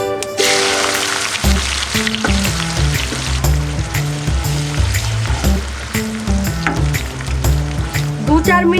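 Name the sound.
chopped onions frying in oil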